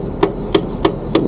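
Four sharp hammer blows land at an even pace on a Bajaj Avenger 220 motorcycle during home repair work, each strike crisp and close over a faint background hiss.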